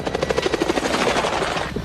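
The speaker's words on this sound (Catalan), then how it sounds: "ara que sentíem helicòpters i tancs passant per dalt" A helicopter's rotor chops loudly and rapidly as it passes close overhead, a dense rhythmic thudding that holds steady throughout with no voices.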